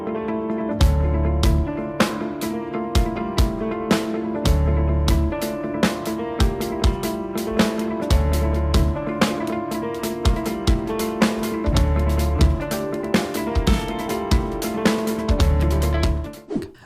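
Drum kit groove in a lopsided three-beat kick, kick, snare pattern, with deep kick thumps and sharp snare cracks repeating in a loop over about seventeen seconds, played alone and close.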